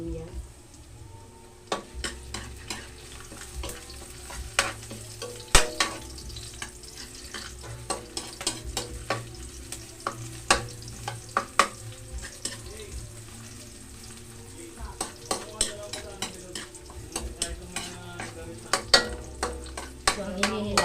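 Chopped ginger sautéing in a pan for a Filipino coconut-milk vegetable dish, a soft steady sizzle with scattered clicks and scrapes of stirring, close and moderately quiet.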